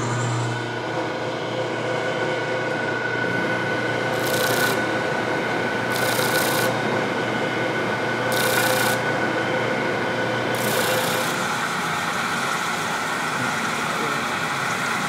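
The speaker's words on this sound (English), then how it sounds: "Sand that brass flush so there's a little bit of material" A coarse-grit sanding disc grinds brass flush on a handmade dovetail saw, a steady harsh rasping hum with four brief brighter bursts as the workpiece presses in.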